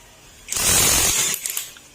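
A Honda Click 125 scooter's noisy drive pulley spins: a mechanical whirring starts abruptly, runs loud and gritty for under a second, then trails off with a few rattling ticks.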